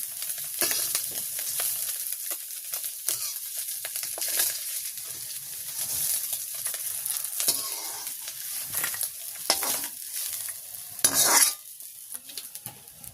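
Fish fries in oil in a pan in a village kitchen, a steady soft sizzle with scattered scraping and clinks of a utensil against the pan, fairly quiet and close.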